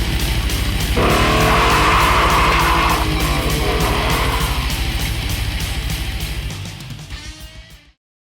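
An off-road go-kart engine roars loud and close, holding a steady rumbling drone with gritty texture before fading away over the last couple of seconds.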